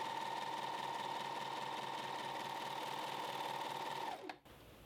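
A Janome 1100D serger stitches sheer knit fabric with a steady, close mechanical whir that runs evenly for about four seconds, then winds down and stops.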